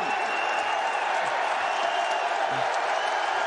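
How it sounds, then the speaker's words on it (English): College basketball crowd in a Dayton versus St. John's game cheering and applauding, a steady, loud wash of clapping and roaring voices throughout, with a commentator's voice under the noise. "Crowd on their feet."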